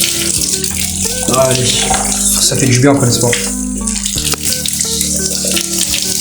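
A running shower after a workout sprays a steady broadband hiss of water, loud and close, while someone speaks briefly over it.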